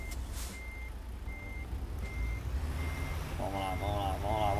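Steady, evenly spaced electronic reversing beeps from a truck in American Truck Simulator repeat over a low engine rumble, with a voice speaking briefly near the end.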